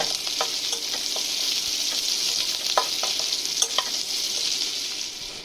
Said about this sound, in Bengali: আমি দিলাম কিছুটা পেঁয়াজ কুচনো, পেঁয়াজ কুচনোটাকে একটু লাল লাল করে ভেজে নেব